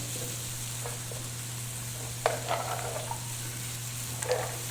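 Chicken and onions brown in a pan for pot pie with a steady, low sizzle, and a few light utensil scrapes and clinks stand out briefly near the end.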